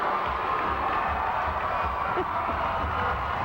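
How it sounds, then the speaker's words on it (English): A packed crowd at a high school basketball game in Wharton Fieldhouse, Moline versus Quincy, keeps up a steady roar of cheering and yelling that fills the whole clip with no break. "You can hear the crowd in the background."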